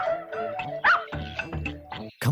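A dog gives a rapid series of short yips and barks with whimpering in between. The sounds are close and fairly loud and arrive in uneven bursts.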